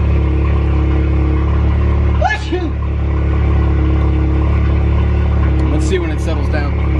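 A Volkswagen MK7 Golf R engine idling after a cold start with new engine and transmission mounts and APR coilpacks, a loud steady low drone close by, with someone talking over it.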